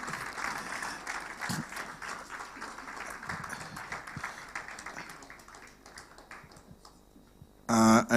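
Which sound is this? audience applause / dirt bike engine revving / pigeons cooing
audience applause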